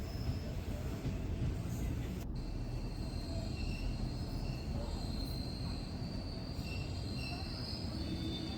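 A train pulls into Paramakudi railway station with a steady low rumble and long high wheel squeals running throughout, loud and close.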